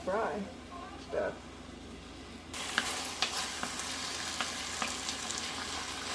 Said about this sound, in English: I'm gonna go ahead and allow this thing to fry